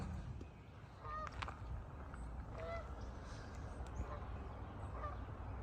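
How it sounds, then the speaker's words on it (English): Geese honk at a distance along a wide, unpaved hiking trail at Dunbar Cave State Park in Clarksville, Tennessee, with several short calls scattered over steady outdoor background noise. "I can hear the geese, but I can't find them for you"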